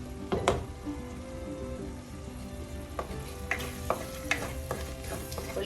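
Onions, tomatoes and green chillies sautéing in a pan, a soft continuous sizzle with occasional light scrapes and taps of a spoon stirring.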